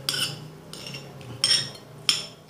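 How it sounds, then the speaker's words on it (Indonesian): A metal spoon scrapes and clinks against fruit, giving several sharp scratchy strokes at irregular intervals, close up and fairly loud, with no talk. "Cukup dikorek dengan sendok."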